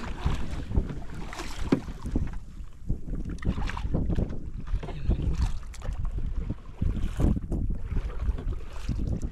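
A small wooden bangka boat moves across open water, with steady wind buffeting the microphone and water sloshing and splashing against the hull throughout, fairly loud and continuous.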